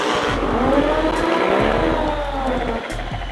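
Several motorcycle engines revving in a group street ride, loud and close, with rising and falling throttle blips stacking over a steady idling rumble for a few seconds.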